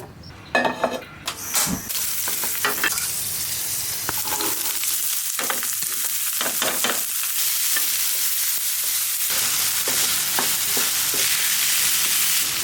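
Tripe and potatoes fry in a pan with a constant loud sizzle, punctuated by repeated clinks and scrapes of a spatula stirring against the metal, with no talk.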